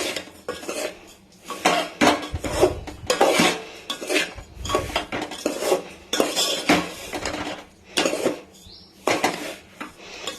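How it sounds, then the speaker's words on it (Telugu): Semolina frying in ghee is stirred with a metal spoon in a pan, giving repeated loud scraping clinks in uneven bursts, close and alone without any talk. "మీడియం ఫ్లేమ్లో పెట్టుకొని దీన్ని మంచి గోల్డెన్ కలర్ వచ్చేంత వరకు మంచిగా ఫ్రై చేసుకోవాలి"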